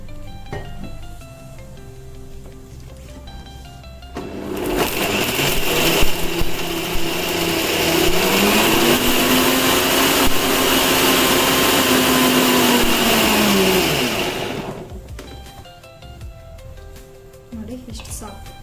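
A kitchen mixer grinder whirs loudly for about ten seconds as it grinds grated coconut and lentils with a little water into a paste for kara pongal, with quieter kitchen sounds before and after.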